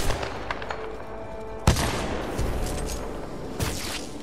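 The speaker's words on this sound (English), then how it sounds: "I heard a bullet." Gunshots in Titanfall 2, with two sharp, loud reports standing out against a busy background of game noise and distant rattling fire.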